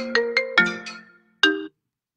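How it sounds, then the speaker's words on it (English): A mobile phone ringtone plays a short melodic chime of several bright notes, then breaks off abruptly after a final note, clear and fairly close with no talk over it. "That was my phone."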